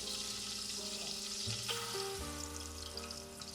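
Garlic ginger paste fries in hot oil for a traditional chicken curry, giving a steady, close sizzling hiss with a few stirring clatters and no voices.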